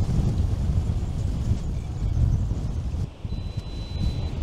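Steady, heavy wind buffeting a microphone outdoors on a rocky stretch of the southeast Australian coast, a continuous low roar with gusty surges and a brief lull near the end.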